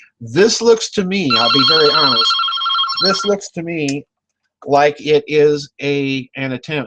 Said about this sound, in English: Sorry about the phone ringing here, folks.